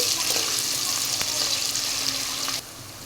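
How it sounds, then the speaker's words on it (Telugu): Ginger garlic paste frying in a pan, a steady loud sizzle with faint stirring scrapes that drops to a quieter hiss near the end. "ఈ అల్లం వెల్లుల్లిపాయ పేస్ట్ కూడా పచ్చివాసన పోయేంత వరకు వేగనిద్దామండి"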